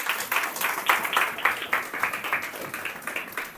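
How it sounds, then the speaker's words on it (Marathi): A congregation claps in a rhythmic, fairly even beat, with sharp, distinct claps repeating about three times per second and sounding moderately near. "अरे वाजवा टाळ्या."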